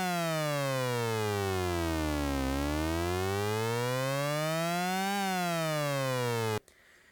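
A Realistic Concertmate MG-1 Moog synthesizer bends a bright, buzzy note down and then back up in slow siren-like sweeps, loud and steady, before cutting off abruptly into quiet.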